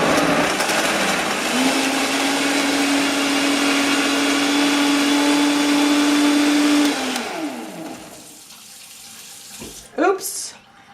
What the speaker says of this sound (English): put it on the blender bottom, put the lid on tight, and give it about 30 seconds worth of blending